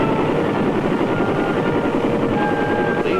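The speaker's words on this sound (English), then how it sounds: "the heavily armed Huey gunships." Heavily armed Huey gunship helicopters flying, a continuous close rotor thrum and engine whine that stays loud and steady throughout with no speech.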